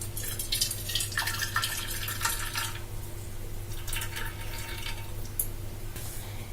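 Warm melted jaggery syrup being poured through a strainer, giving a soft, steady liquid trickle and light dripping, close and fairly quiet, with a low constant hum beneath.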